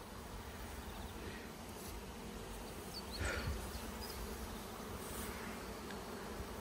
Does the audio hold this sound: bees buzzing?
yes